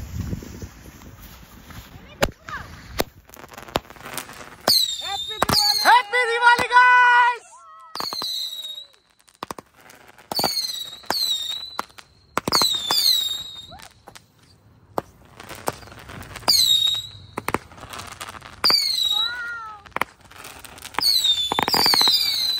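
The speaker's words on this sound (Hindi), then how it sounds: "ये देखो लंदन में भी पटाखे तो बज रहे हैं भाई" Diwali firecrackers crackle and whistle outdoors in London, with repeated rising whistles and sharp pops going off in bursts, and voices talking between them.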